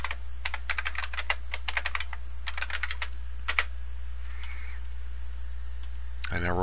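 Rapid computer keyboard typing while renaming a part in SolidWorks, bursts of crisp keystrokes in quick clusters with short pauses, close and clear, ending in a brief low thump.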